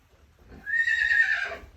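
A loud, close whinny from a baby mustang, rising and holding for about a second before trailing off, heard alone without talk.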